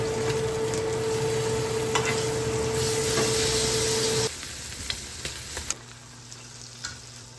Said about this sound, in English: We're gonna fire up our cast iron skillet, sear them off, cook them